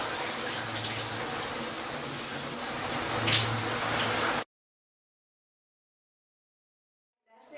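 Running water rinses shampoo out of short crochet braids, a steady close splashing and pattering for several seconds before it abruptly stops into silence.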